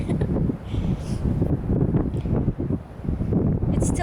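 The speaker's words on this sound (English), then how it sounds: "It's still windy" Wind rushing at a beach, a steady broadband roar with gusty swells throughout, loud and close like wind buffeting the microphone, with no clear voices.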